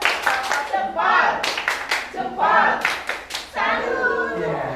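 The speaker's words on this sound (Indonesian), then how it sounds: "Tepuk tangan sekali lagi." An audience at a work meeting clapping hands in short rhythmic bursts, sharp claps arriving in patterned groups close by, mixed with people talking and calling out between the bursts.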